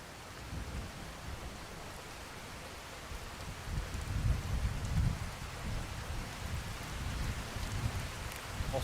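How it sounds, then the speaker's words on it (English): Steady rain falls in the video game Skyrim, a dense, even hiss with low rumbling swells that grow louder midway and stay strong to the end, with no voices. "Ah, great. It's raining."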